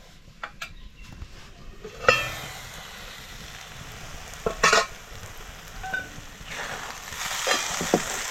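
Semolina (rava) being stirred and roasted in a kadhai for mango sheera: a soft steady sizzle with irregular scrapes and knocks of a spoon against the pan, close and alone without talk.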